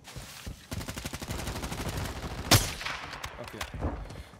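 Video game gunfire: a rapid burst of regular shots runs through most of the stretch, with one loud sharp blast near the middle and a few scattered shots after it.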